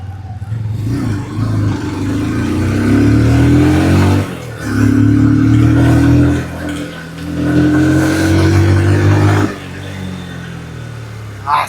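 A 2026 TVS Apache RTR 160 2V motorcycle engine revs up through gears in rising surges, dropping between shifts, close and loud with wind rush.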